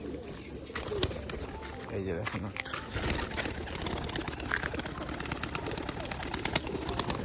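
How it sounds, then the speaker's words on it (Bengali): Pet pigeons, a female and a male, coo repeatedly in low throaty bursts close by, mixed with fluttering and rustling as a person speaks over them. "এই যে দেখো আওয়াজ শুনেছো পায়রা বাজির"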